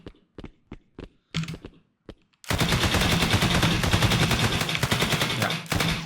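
Automatic gunfire from an AI character in an Unreal Engine 5 third-person shooter: several sharp single shots, then a long, loud, rapid continuous burst lasting several seconds.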